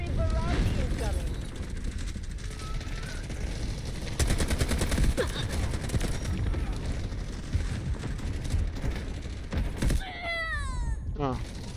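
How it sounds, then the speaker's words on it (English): Artillery barrage falling in the video game Delta Force, a dense, loud run of explosions and gunfire rumbling continuously under talk, with heavier blasts bunching up midway and a sharp chirping burst near the end. "Artillery barrage incoming"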